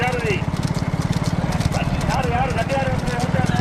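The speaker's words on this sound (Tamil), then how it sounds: "முத்துச்சேர்வை அவருடைய மாடு ஓட்டி வருகின்ற சாரதி" Bulls pull a cart in a bullock cart race, their hooves beating a fast, steady rhythm of clopping up close, heard under an excited announcer's voice and crowd shouts.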